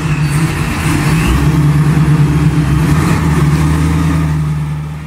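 A Ford F-100 pickup with a V8 making 860 HP accelerates hard, its loud, deep engine roar building steadily for several seconds before easing slightly at the end.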